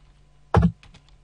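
Computer keyboard typed on while setting up a Minecraft server, a brief clustered burst of keystrokes followed by a few lighter taps in an otherwise quiet room.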